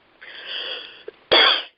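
One person coughs: a wheezy breath, then a short, loud, harsh cough burst, close up with no talking.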